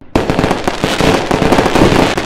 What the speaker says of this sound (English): The fireworks look so cool.